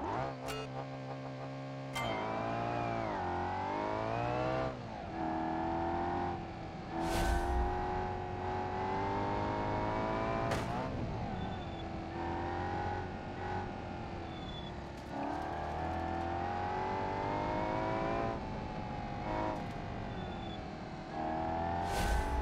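Civita Bolide club racing car engine on an asphalt hill climb in BeamNG, revving hard through repeated gear changes, rising and falling pitch with brief lifts between shifts, loud and sustained throughout.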